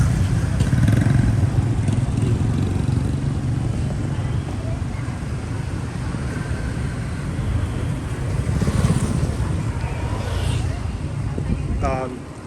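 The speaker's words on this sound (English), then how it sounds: "Billy Badass on a motorbike with some kind of hard look on his face" A motorbike rides past on a Hoi An town street in Vietnam, its engine rumbling under wind buffeting and general traffic noise, swelling briefly as it nears.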